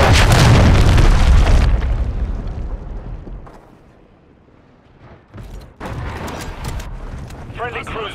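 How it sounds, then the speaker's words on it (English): A cruise missile explodes in Call of Duty with a loud, deep boom that rolls out and fades, followed by scattered bursts and crackling aftershocks. "Hostiles launched a cruise missile."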